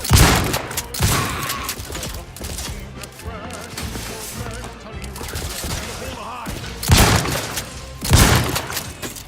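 Shotgun blasts in a video game: sharp, loud booming shots with heavy crashing bursts near the start and again toward the end, spaced irregularly over a steady backdrop of game noise.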